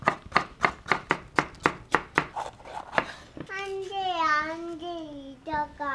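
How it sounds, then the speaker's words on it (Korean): Vegetables for japchae julienned with a knife on a cutting board, about ten crisp, evenly spaced chops in quick rhythm, followed by someone talking near the end. "자, 재료들은 모두 채 썰어 줄게요."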